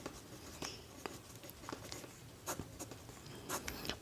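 Pen writing on paper while a trigonometry height-of-a-tree problem is worked out: faint scratchy strokes come in short irregular bursts, quiet and close, with no talking over them.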